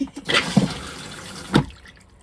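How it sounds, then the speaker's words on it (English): Foot-pedal flush of an RV toilet: a short watery gurgle and splash followed by another brief rush of water, close and fairly loud, lasting about two seconds with no talking. "Now it's time to flush. Oh, foot flush."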